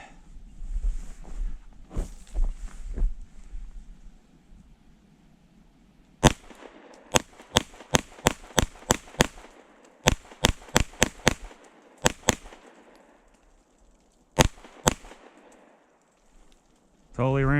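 A Kimber 2K11 Pro pistol fires a rapid string of sharp, loud gunshots, then a few more single shots after a pause, with faint talk at the start.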